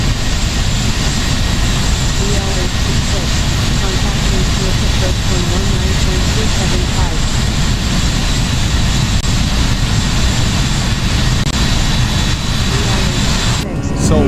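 Jet engines of an Airbus A319 climbing out after takeoff from Innsbruck, heard as a steady, loud, broadband roar from inside the cockpit, with a pilot talking over it.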